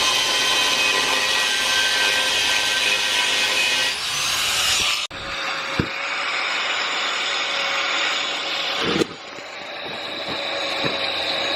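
A power sander works over a custom cable bracket improvised from scrap parts in a car-building garage. It gives a steady, loud rasping whine that cuts out briefly near the middle, then resumes with a few knocks, close and without talk.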